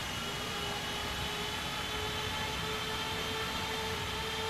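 An MD-11 freighter's engines heard from outside in X-Plane 12 give a steady, dense jet roar with a broad hiss and faint whining tones, constant and unbroken from start to finish.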